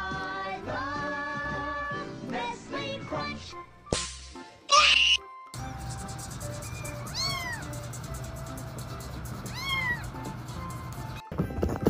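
A cat meows several times, rising and falling cries heard clearly at close range over a busy background with some music-like tones, indoors in a home setting.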